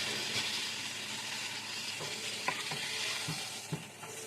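A ribeye steak dropped back into a hot pan sizzles and fries steadily and loudly close by, with a few sharp clinks and taps of handling over the constant hiss.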